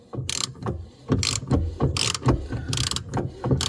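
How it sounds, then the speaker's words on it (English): A ratchet with a 10 mm socket tightening a nut on a Subaru rear hatch, giving several quick bursts of sharp metallic clicking close up, with brief pauses between strokes. "just use a 10 mil on that nut right here"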